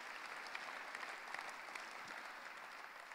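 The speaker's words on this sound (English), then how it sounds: "Give them a round of applause." A dense, steady round of audience applause greets guests arriving on stage at an interview event, sustained and even throughout without voices on top.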